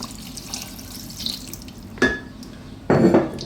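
Water poured from a tap or jug into a cooking pot for a lamb bourguignon braised in red wine, with two short splashing bursts over a quiet kitchen background.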